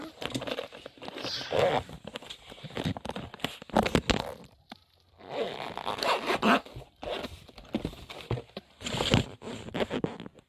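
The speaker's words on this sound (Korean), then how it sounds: "제 지퍼를 닫아볼게요." A zipper is pulled in several long rasping strokes, close and crisp, with short pauses between pulls.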